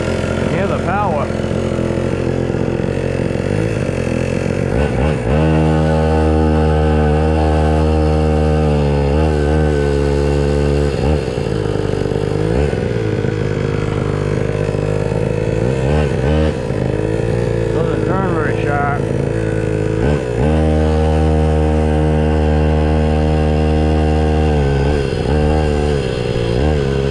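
A small 2020 Apex SYX 50 mini motorcycle engine runs close and steady for nearly half a minute, with repeated throttle blips raising the buzzy pitch and occasional brief dips.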